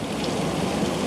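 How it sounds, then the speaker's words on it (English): Heavy rain in Redding, California pours down in a dense, steady patter that stays close and loud for the whole brief moment. "it's really raining"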